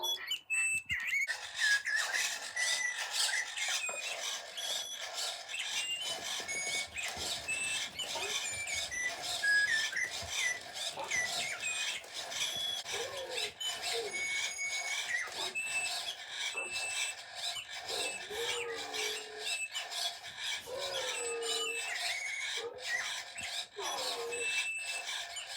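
A robotic toy bird on a powered bird swing, with a 3D-printed bird motif, chirps and whistles continuously in busy electronic birdsong over a steady rasping rub, close and constant throughout.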